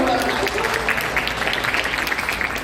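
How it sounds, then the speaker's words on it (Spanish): Schoolchildren applaud their classmates in a classroom session on disaster risk management, a dense, steady wash of clapping from many hands across the whole stretch, with a voice faintly underneath. "a todos sus compañeros, un aplauso."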